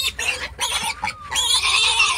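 A farm pig squeals in repeated shrill bursts close by, with a brief snort between cries.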